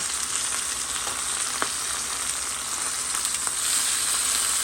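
Chicken thighs sizzle steadily in a stovetop grill pan, a continuous close frying hiss with a few faint clicks and no talking.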